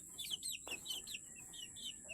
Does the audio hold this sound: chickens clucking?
yes